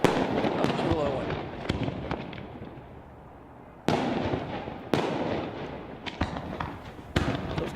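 Fireworks bursting at a graduation display in Madera, with loud, close booms and cracks in irregular succession, each followed by a crackling, sizzling decay, while a voice talks faintly underneath.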